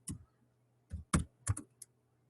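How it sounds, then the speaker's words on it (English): A computer keyboard being typed on during text editing: five short, crisp key taps spaced irregularly over about two seconds, close and quiet, with no voices. "I can start typing wherever I'm at, hit space."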